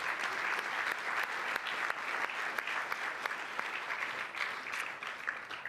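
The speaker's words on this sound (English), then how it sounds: "How about a round of applause for Peter?" Audience at an ethnic business awards gala dinner applauds steadily for several seconds, a full room of even, continuous clapping with a few sharper claps standing out.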